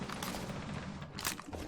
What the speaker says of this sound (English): it looks like there are a lot of gunshots somewhere